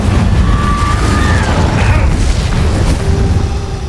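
A loud, dense blast from the Confringo fire curse in the video game Hogwarts Legacy, a sustained booming roar lasting a few seconds with bright crackling on top and no pause.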